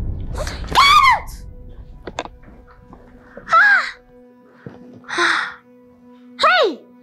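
A cuckoo calls in a few loud, separate bursts, the cries rising and falling, each spaced by a second or two of quieter background.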